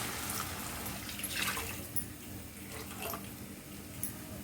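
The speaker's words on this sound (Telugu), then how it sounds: "మూడు గ్లాసుల వాటర్ పోసుకుందాం" Water pours and splashes into a pot of rice up close, gurgling unevenly for a few seconds.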